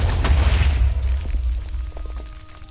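A reactor explodes in a modded Minecraft game, All the Mods 6. The blast is a loud, deep boom that rumbles and then fades over a couple of seconds.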